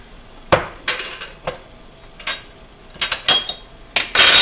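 A whisk clinks sharply against a metal bowl as eggs are beaten in a double boiler for hollandaise, uneven quick strokes that bunch into a busy clatter toward the end.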